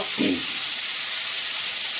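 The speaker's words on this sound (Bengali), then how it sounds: "চলো এটা ভাজা হোক ততক্ষণ" Vegetables fry in hot oil with a loud, steady, bright sizzling hiss throughout, after a brief low thud at the start.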